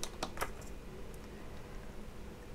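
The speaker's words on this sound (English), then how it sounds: "clicking this button twice" A button on an AFRC GYS-2 V3 drift gyro is clicked twice in quick succession, giving two sharp, close clicks over a steady low hiss.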